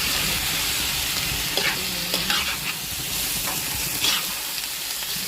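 Pork stirred and fried with onion and garlic for dinuguan, a dense close sizzle broken by scraping spatula strokes against the pan, steady and moderately loud with no voices.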